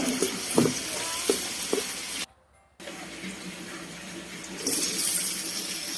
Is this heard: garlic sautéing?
yes